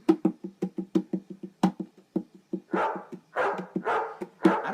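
A dog barks in a fast series of sharp, close barks, then shifts into longer, rougher yelps and whines, with no talking over it.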